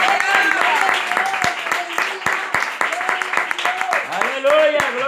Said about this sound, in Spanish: Dale un aplauso a él, hermano.